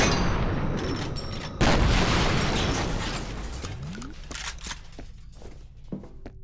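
Automated turrets fire in the first-person shooter F.E.A.R., laying down a loud, dense barrage of rapid gunshots that surges sharply partway through, then trails off into scattered, sharper reports.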